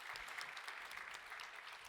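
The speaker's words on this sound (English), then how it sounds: "And a final round of applause," Conference audience at a European youth event applauding steadily, a dense, even wash of many hands clapping throughout with no pause.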